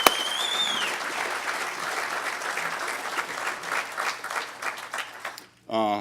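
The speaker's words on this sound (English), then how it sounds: "So a round of applause." An audience at a hacker conference's closing remarks applauds, a steady crowd clapping that becomes patchier and fades, then breaks off abruptly just before a short burst of a voice at the end.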